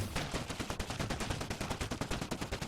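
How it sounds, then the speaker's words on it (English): Rapid gunfire in Factorio, dense burst of evenly spaced loud shots in quick succession, continuous for nearly three seconds with no talk. "the shotgun is my new favorite weapon in the game"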